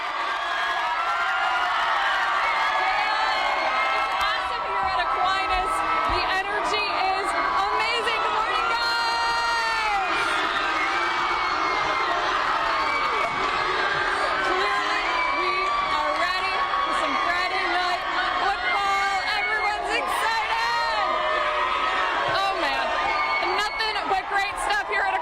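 A large crowd at an Aquinas high school rally cheers continuously, with shouts, whoops and children's voices merging into a loud, steady roar that stays close and full throughout.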